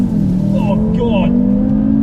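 A 2019 Audi RS3 accelerates hard from inside the cabin, a loud steady engine drone rising under a passenger's excited exclamations.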